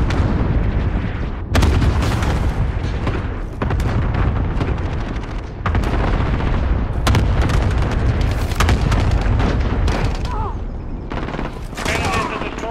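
Cluster strike explosions hit in Call of Duty Modern Warfare, with a series of heavy booms and blasts punctuating continuous gunfire and rumble, loud and dense throughout.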